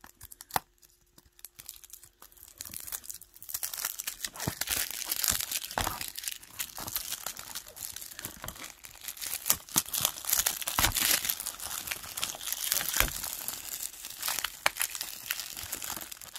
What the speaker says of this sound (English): it's time to open it using the scissors